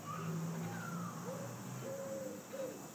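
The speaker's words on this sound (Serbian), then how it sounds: "Ptičica." A small bird calling outdoors near a grassy spot gives several soft, owl-like tonal hoots spaced a moment apart, faint against a steady background hiss.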